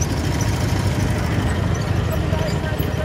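A vehicle engine at the Tanks Trucks & Firepower 2022 show ticks over at idle, giving a steady, close, low rumble that continues through the whole stretch without a break.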